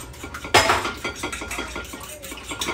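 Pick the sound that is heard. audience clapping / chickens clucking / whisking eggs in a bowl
whisking eggs in a bowl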